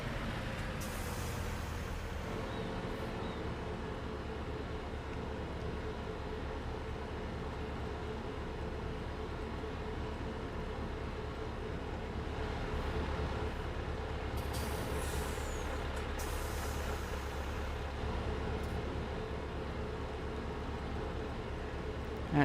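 A truck in Farming Simulator 25 idles and creeps forward, its engine a steady low rumble throughout, with brief hissing bursts of air brakes releasing, and no talk.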